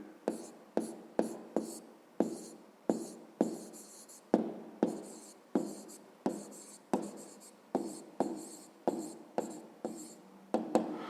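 A pen scratches out a fifth-grade math problem by hand on paper, in a steady rhythm of short strokes and taps, close and quiet with no talk.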